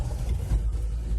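A truck passing on a road, a steady low engine rumble close by with a brief swell, no talk over it.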